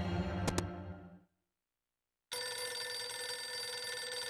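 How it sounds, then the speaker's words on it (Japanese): A retro black rotary dial telephone rings in a horror adventure video game set in a cluttered room strewn with document piles, a short bell burst that cuts to silence before a sustained electronic ring resumes. "疑問に答えるようにレトロな電話の音が聞こえる。"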